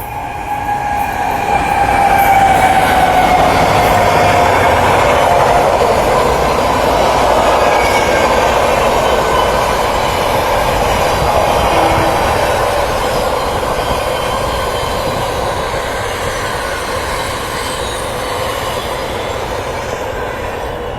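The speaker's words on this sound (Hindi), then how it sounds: "ये है न्यू कानपुर रेलवे स्टेशन और शिव गंगा ओवरटेक कर रही है पैरेलल में।" A Shiv Ganga express train running alongside on a parallel track at New Kanpur railway station, a loud steady rumble of wheels and coaches with a faint squeal early on, continuing throughout.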